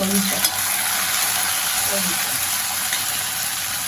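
Chopped tomato going into a pan of frying vegetables for vegetable pulihora, a South Indian rice dish, giving a steady close sizzle with occasional stirring scrapes.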